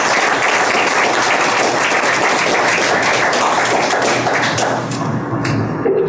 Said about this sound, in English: Big round of applause for Lewis Harmon.